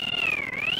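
A cat meows in one sustained, wavering cry, close and fairly loud, with no voices over it.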